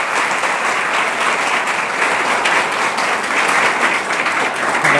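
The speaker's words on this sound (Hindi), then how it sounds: "एक बार ताली से अभिनंदन करें आप।" An audience at a yoga and de-addiction awareness event claps together in sustained, even applause that holds at a steady, full level throughout.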